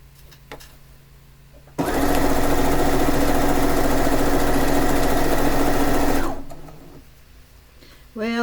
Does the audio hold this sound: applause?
no